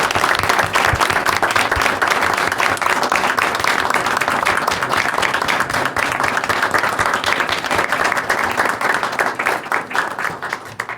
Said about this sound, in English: One more round of applause for each of you.